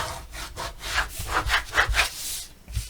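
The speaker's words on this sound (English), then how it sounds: "I'm going to burnish real well to make sure we get good adhesion" Cardstock being firmly burnished by hand for a mini album cover, a series of rhythmic rubbing strokes, close and moderately loud, swelling and fading in a steady back-and-forth pattern with no speech.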